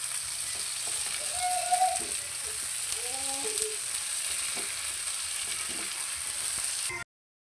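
Shrimp sizzle and crackle steadily in a hot pan while being stir-fried and mixed, with the scrape and clink of a utensil against the pan, continuous close-up frying that stops abruptly.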